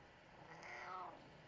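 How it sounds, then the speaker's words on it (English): A black cat gives a single soft, drawn-out meow, fairly quiet and close, rising and falling over about a second in a hushed room. "He's a good cat"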